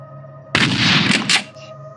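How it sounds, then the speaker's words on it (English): A single loud shotgun blast in the video game Slendytubbies 3, a sharp crack with a short noisy tail and a brief second burst just after, standing alone against quiet background hum. "Is this kind of a shotgun?"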